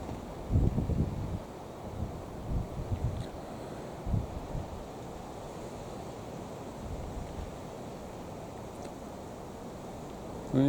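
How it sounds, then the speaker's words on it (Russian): Strong, gusty wind buffets a microphone outdoors, a rough low rumble with heavy bursts early on that settles into a steady roar, with no voices. "Все, ветер давит."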